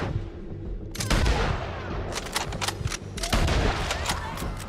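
Gunfire in the Red Dead Redemption 2 epilogue: rapid bursts of shots and booms, loud and close, with a short lull before the firing picks up again.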